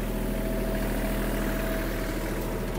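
A Kubota KL-25 Japanese mini tractor's engine runs steadily at raised revs in fourth gear, a close, loud, continuous drone with no talking.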